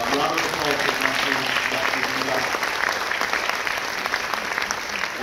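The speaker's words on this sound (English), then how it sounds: "please join me in giving a warm round of applause" An audience at a talk on Earth Overshoot Day applauds warmly, a dense, steady wash of clapping that lasts throughout and fades slightly near the end.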